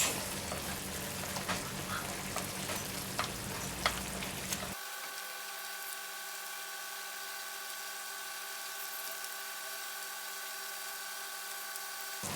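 Pacific saury kabayaki sizzles in a frying pan, a busy crackling fry with scraping stirs at first, then it settles into a quieter steady hiss with a faint electrical hum.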